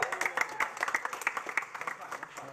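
Scattered audience clapping at a Shelton High School spring band concert awards moment, a brief burst of uneven claps from a modest crowd, fairly faint and quick.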